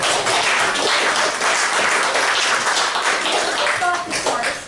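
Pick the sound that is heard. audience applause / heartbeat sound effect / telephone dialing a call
audience applause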